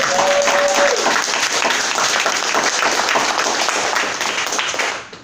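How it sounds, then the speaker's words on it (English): Audience applause after a speech at a competition, dense sustained clapping from a crowd that holds steady, then drops off sharply at the end. "we owe her a round of applause for that great speech"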